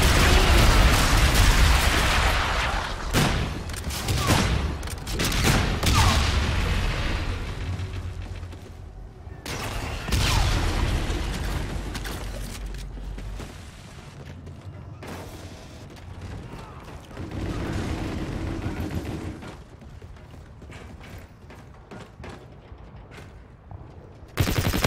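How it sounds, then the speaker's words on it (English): Heavy bombardment in Call of Duty Infinite Warfare multiplayer: booming explosions and rattling gunfire pile up loud and dense at first, then thin to scattered bursts, with a voice speaking over parts of it. "Enemy bombardment! Quick hide!"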